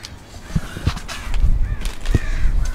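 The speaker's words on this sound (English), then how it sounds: "Jeez, Birds." Crows caw several times in short, harsh bursts, fairly close, over a light outdoor background.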